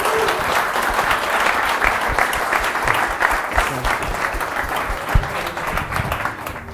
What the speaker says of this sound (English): Let's have a round of applause for Howie Safety.